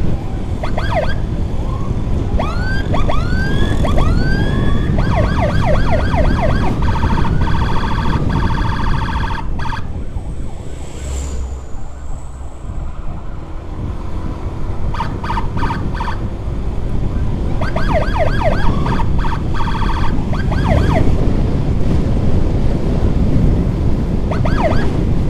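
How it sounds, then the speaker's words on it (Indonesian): Ambulance siren on an escort run in Malangbong, using a London-style tone, loud and close, cycling through rising wails and rapid yelping phases over steady road noise with no talk. "Kita pakai sirine London guys."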